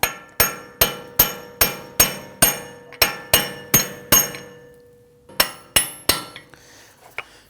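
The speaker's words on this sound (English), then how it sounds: "Then we're going to use a brass punch here." Sharp, ringing metallic hammer strikes on a brass punch against a front CV axle of a 2009-2017 Volvo XC60 3.2L, about a dozen evenly spaced blows, a pause, then a few more taps, close and loud.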